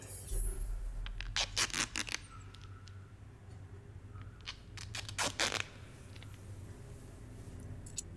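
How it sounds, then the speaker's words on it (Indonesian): Duct tape is ripped off a roll in a Batman film trailer, heard as several quick, raspy tearing pulls in two clusters over a low background hum, fairly quiet and close. "Oh, suara ini ya, lakban."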